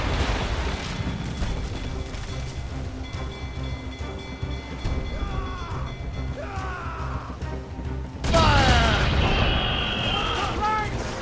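Cannon and gunfire crash out during a ship battle in Assassin's Creed Rogue. A low rumble with scattered bangs builds to a loud, sudden volley near the end, with shouted voices mixed in.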